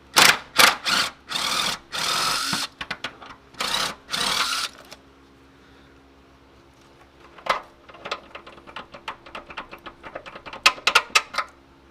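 Impact wrench on a worn transmission mount fastener under an Infiniti G20: several loud, sharp bursts of rattling hammering in the first five seconds, followed by fainter clicks and tool handling.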